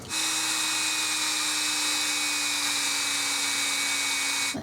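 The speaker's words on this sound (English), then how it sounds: "I'm going to pre-drill a hole." A power drill whines at a constant high pitch for several seconds, pre-drilling a hole in a resin craft piece, close and loud, then stops abruptly. There is no talking.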